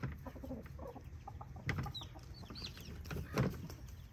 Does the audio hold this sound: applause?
no